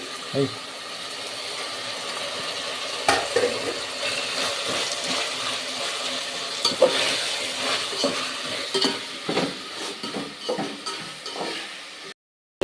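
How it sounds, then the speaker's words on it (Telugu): Ginger paste sizzling and frying in a pan while making Rayalaseema-style thiravatha rice, with steady hiss and occasional stirring scrapes and clinks throughout. "ఇప్పుడు అల్లం పేస్ట్ వేస్తున్నాం కదా"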